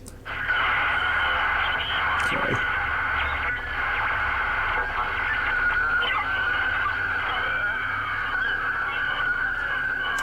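Steady hiss of radio static from an in-game radio in the horror video game Fatal Frame 4, constant and fairly loud for the whole stretch, with a faint low rumble beneath and a brief swooping tone near the start.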